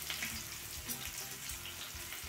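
Thickly sliced onion and a handful of peanuts frying in a pan over a medium flame, giving a faint, steady sizzle with soft crackles throughout.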